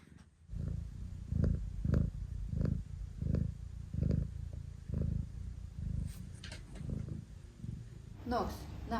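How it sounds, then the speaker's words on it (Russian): A cat purrs up close in a cozy forest house, a rumbling purr pulsing in an even rhythm of roughly one to two cycles per second, ending with a soft rustle. "Котик Снокс мурчит."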